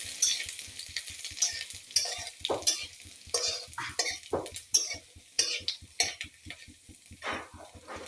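A spoon stirs ginger and bay leaves in hot oil in a cooking pan, with repeated scraping strokes against the metal and a sizzling fry underneath, no voices.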